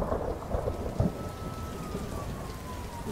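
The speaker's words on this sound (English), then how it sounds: "Rain looks legit." Rain and thunder in a Gotham Knights video game trailer: steady heavy rainfall with low rolling thunder rumbles and a thin faint siren-like tone drifting in the background.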